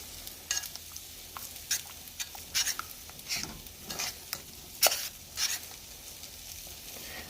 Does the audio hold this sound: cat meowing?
no